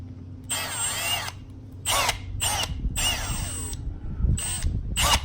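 Power drill in repeated short whining bursts, clearing debris from a puncture through the steel belts of a tire before plugging, with pauses between pulls, close and fairly loud.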